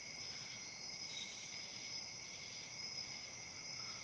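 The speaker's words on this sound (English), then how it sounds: "I love the sounds of the crickets and the cicadas chirping." Crickets and cicadas chirp in a steady, unbroken outdoor chorus, a constant high-pitched shrill drone with no talking.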